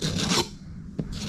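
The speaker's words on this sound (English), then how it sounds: "then with the flat of your putty knife," A putty knife scrapes excess filler off a wall in two close, rasping strokes separated by a short pause, with a brief tap between them.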